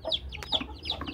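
Chickens at a rural Brazilian home with many hens and chicks, clucking in short repeated bursts close by, several birds overlapping over a low background rumble.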